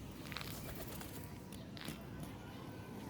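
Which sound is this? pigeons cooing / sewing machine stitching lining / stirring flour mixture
pigeons cooing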